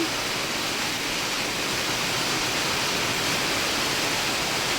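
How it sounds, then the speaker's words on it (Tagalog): Heavy rain pours down steadily, a dense, loud, even hiss with no breaks, close by around a boat at night after supper. "Tapos biglang umulan."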